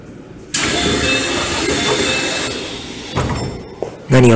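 Keio 8000 series train at Higashi-Fuchu station, a loud rumbling roar of the arriving train with a high-pitched whine, easing off before a sharp burst of platform noise at the end.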